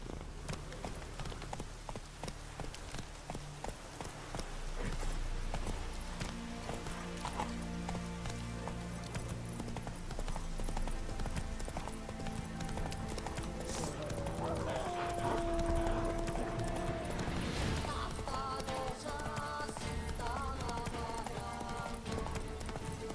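A horse gallops in The Witcher 3: Hearts of Stone, its hooves clopping steadily and continuously throughout, with game music and a voice heard now and then.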